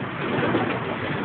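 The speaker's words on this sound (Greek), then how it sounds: "Αυτά κύριοι είναι του Μπουρί τα περιστέρια." Pigeons from a keeper's loft, a close, soft cooing murmur over steady background noise, no voices.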